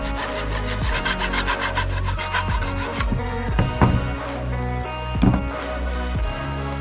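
A hand saw cuts through PVC pipe at its midpoint while building a home garden irrigation sprinkler, with rapid rhythmic back-and-forth strokes, close and steady, and a few sharper knocks near the end.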